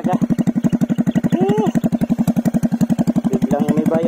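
Motorcycle engine fitted with a Taikom power pipe exhaust being revved hard, a loud, rapid pulsing putter with brief blips in pitch, close up and continuous.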